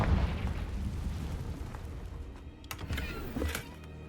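A Confringo blasting spell explodes in Hogwarts Legacy on PS4, a loud, booming burst with a rumbling low end, followed by a few sharper crackling hits trailing off over the next few seconds.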